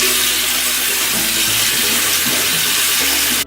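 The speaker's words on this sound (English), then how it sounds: "So what I do is turn the water on." Water gushes steadily from a bathroom tap into a sink during an at-home facial routine, a loud, continuous hiss that runs unbroken for a few seconds before cutting off abruptly.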